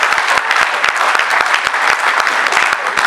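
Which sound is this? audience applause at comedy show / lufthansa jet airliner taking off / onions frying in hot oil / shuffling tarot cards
audience applause at comedy show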